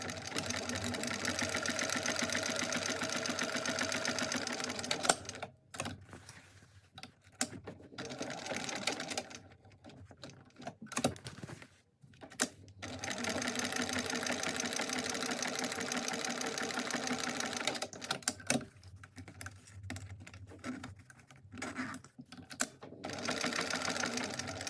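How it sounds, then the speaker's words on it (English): A sewing machine stitches around the outside of a mini backpack at an eighth-inch seam allowance, running in long steady bursts of rapid mechanical whirring with brief stops between runs. "I'm going to stitch all the way around the outside with 1/8 of an inch seam allowance"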